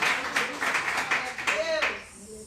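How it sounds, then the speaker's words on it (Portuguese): A church congregation claps in quick bursts of applause, moderately loud, with a voice speaking Portuguese over it. "Aplauda ao Senhor mais uma vez."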